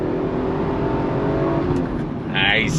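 A 1993 Toyota Supra Turbo engine revs hard under throttle while driving, a loud roaring climb with a rising whine, close and continuous for a few seconds.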